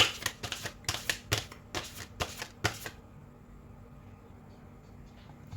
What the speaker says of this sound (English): I'm going to shuffle off camera because these cards are also so big.